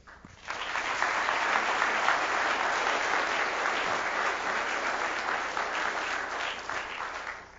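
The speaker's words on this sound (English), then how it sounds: "thank you for the applause" Sustained applause from a conference audience at a fintech awards event, dense and steady clapping that swells quickly and holds for several seconds before tapering slightly, with no talking over it.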